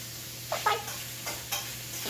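Seasonal vegetables frying in good oil in a pan, a faint steady sizzle with a few soft stirring scrapes and light clinks of a utensil, no talking.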